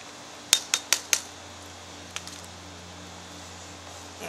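A spoon stirs food in a metal canteen cup pot at a campsite, giving four quick, close metallic clinks in a row and then a couple of fainter taps before quiet.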